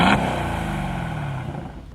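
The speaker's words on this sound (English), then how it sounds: "you get a louder exhaust note on the downshifts and upshifts" Exhaust note of a 2020 Aston Martin Vantage: a deep, throaty engine drone with a brief higher-pitched rev at the start, holding loud and close before tapering slightly, no voices.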